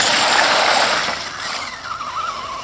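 RC mud truck with two motors on a 3S LiPo churning through thick mud: loud whining electric motor with squealing wheelspin, pitch wavering as the tires slip, close and alone.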